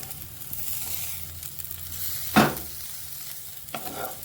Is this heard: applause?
no